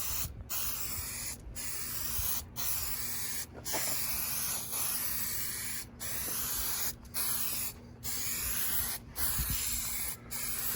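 A spray can hisses in repeated short bursts as a sealing coating goes onto truck headliner material, each spray lasting about a second with brief gaps between, over a faint steady background hum.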